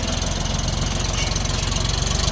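A Bulat 244 Pro mini tractor engine runs close by with a steady, fast, pulsing diesel-like rumble and a knocking beat that continues without a break.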